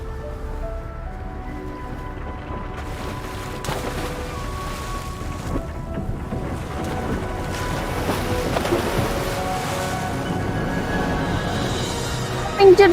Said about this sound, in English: We are sailing through the boundaries